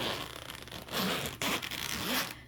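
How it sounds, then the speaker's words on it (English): A case of Harmonious colored pencils being opened, giving a continuous close scraping, zipper-like rasp that runs loudly throughout. "so you'll hear me opening the harmonious pencils"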